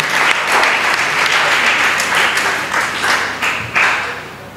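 A conference audience applauds the mothers' association with dense, sustained clapping that fills the room and fades slightly toward the end.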